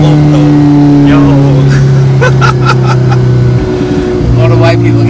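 Alfa Romeo 4C sports car engine droning loudly and steadily with harmonic bands, the pitch dropping and rising as it revs on a downshift, with a person talking over it.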